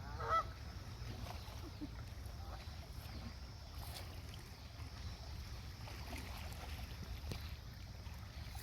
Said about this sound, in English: All the geese.